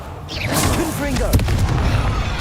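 Confringo blasting spell boom in Hogwarts Legacy amid chaotic spell combat, a loud booming impact mixed with crackling magical effects and overlapping bursts, with a voice shouting during the fight.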